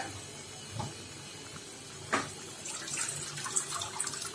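Faint running water from a tap as something is rinsed, a soft hiss with an occasional small splash and clink.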